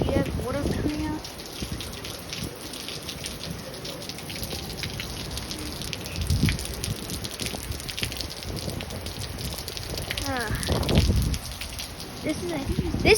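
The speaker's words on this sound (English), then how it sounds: "it's raining in Wacol again. Cause there's a cyclone." Heavy cyclone rain pours down in Wacol, Brisbane, a steady wash of falling water and gushing runoff under the whole stretch, with bursts of nearby voices talking over it in places.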